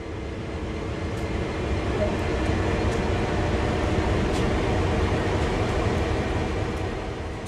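A CSX heavy haul diesel locomotive in Train Sim World idles with a steady low rumble and a constant drone, with faint ticks above it, even and unchanging throughout.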